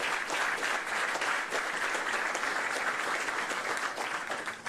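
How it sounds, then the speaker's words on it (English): Sustained loud applause from a crowd of servicemen and women at Hickam Field in Honolulu, dense, even clapping filling the whole stretch with no talk over it. "Give yourselves another round of applause."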